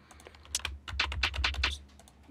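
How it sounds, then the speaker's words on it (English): Rapid typing on a computer keyboard that serves as a musical keyboard in FL Studio, a quick run of close, crisp key clicks clustered in the middle with no speech. "you can even touch on your keyboard, and it'll act sort of as a keyboard, like a musical keyboard"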